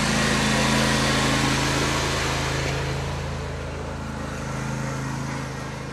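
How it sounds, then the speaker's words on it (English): A lawn mower runs steadily while mowing and collecting sweetgum gumballs, a continuous engine drone heard from a moderate distance that eases slightly in loudness partway through, with no talking. "he was back there in the back mowing and picking up gumballs with the machine"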